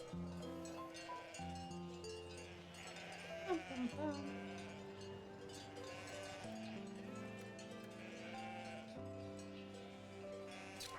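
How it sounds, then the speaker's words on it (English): Sheep in the video game Wytchwood bleat a few times over steady, looping game music, with a brief wavering cry standing out near the middle. "I'm gonna walk away from these sheep."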